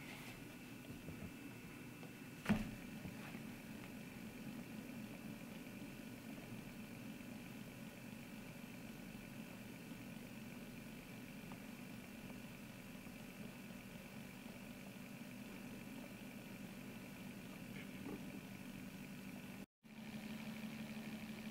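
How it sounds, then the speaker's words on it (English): A pulsed magnet single-coil motor running on 3 volts DC gives a faint, steady electrical hum with a constant low drone and a thin higher tone, one small tick early on, otherwise unchanging. "Right now, we have the motor running at 3 volts DC."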